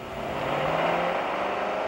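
A 1995 Lincoln Continental luxury sedan's engine pulls steadily under acceleration, a continuous mid-pitched drone with a faint rising tone, close and unbroken with no voices.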